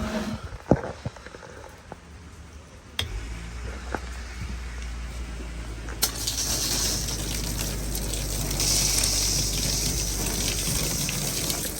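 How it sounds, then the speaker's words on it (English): Aboard a 250 Cobia boat, a freshwater washdown pump hums on with a low drone, then the hose bursts into a steady, hissing water spray that keeps running to the end. "Turn on the wash down."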